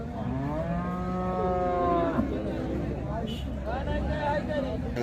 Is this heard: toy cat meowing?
no